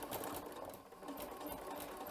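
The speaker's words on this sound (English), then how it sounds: "now I'm going to put the foot down, and so now I'm going to sew my first 10-inch strip" Sewing machine fitted with a ruffler attachment running steadily while gathering a 10-inch fabric strip with every stitch, a fast continuous whirring with rapid mechanical clatter, close and fairly loud throughout.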